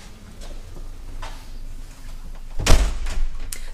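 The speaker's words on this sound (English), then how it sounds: "So we'll enter into the property now through the front door." A house's front door is handled with a few faint clicks and rattles, then a sharp thump as it opens, followed by soft creaks and shuffling.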